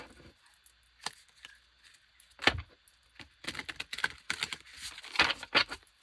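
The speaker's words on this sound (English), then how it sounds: "Not my best shuffle." Tarot cards are shuffled by hand in scattered, crisp riffles and taps, sparse at first and then in denser clusters, close and alone.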